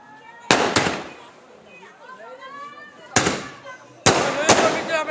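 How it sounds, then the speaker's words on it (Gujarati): Firecrackers burst during a street celebration after India's final match win, three loud sharp cracks with crackling tails, widely spaced, with voices talking and cheering in between. "ફટાકડા ફોડવી છે મિત્ર."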